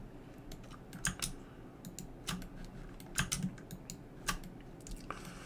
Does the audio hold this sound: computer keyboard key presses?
yes